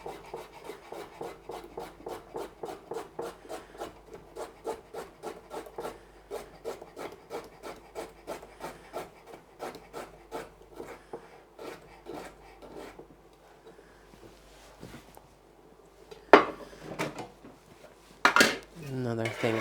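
A carrot is peeled with long rasping strokes on a cutting board, then sliced into medallions with a steady run of crisp, evenly spaced knife chops. A few louder clatters of utensils come near the end, with no talking.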